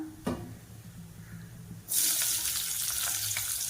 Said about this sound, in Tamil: வெங்காயம் வந்து பொரிஞ்சிச்சு